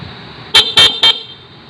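A stock vehicle horn honks three short times in quick succession, loud and close, with a slightly longer middle toot.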